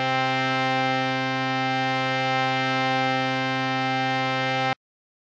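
A harmonium, the bellows-and-reed keyboard instrument, holds one rich, buzzy sustained chord at steady volume for several seconds, then cuts off abruptly into silence.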